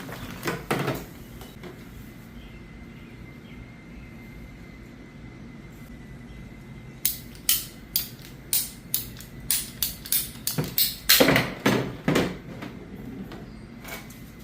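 Half-inch schedule 40 PVC pipe is cut in a quick run of about a dozen sharp, evenly spaced snaps or crunches, close and fairly loud, following a quiet stretch with a few faint knocks.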